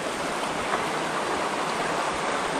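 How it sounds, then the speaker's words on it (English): Creek water flows below a small dam and pool at a fishing spot, making a steady close rushing wash that runs unbroken with no talk over it. "so down here is like the creek"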